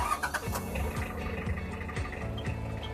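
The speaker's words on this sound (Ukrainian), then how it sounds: "Трактор завели." Mitsubishi MT335 tractor engine after starting, a close, steady mechanical idle with a repeating low chug about every half second and some light clatter.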